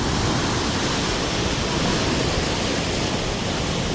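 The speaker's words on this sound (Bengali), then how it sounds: "সুইচ গেট প্রচণ্ড তুফান চলছে বৃষ্টির পানিতে যে পানিগুলো আসছে" Storm-swollen rainwater rushes hard through a sluice gate, a dense, steady roar of churning water that fills the whole scene without a break.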